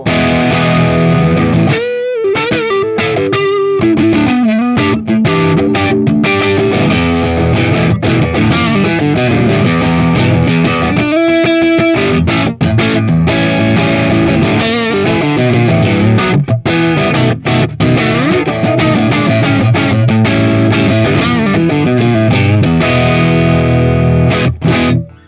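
Electric guitar played on the front pickup through a Centavo overdrive pedal, driving an amp: a loud, continuous distorted passage of chords and single-note runs with no talking.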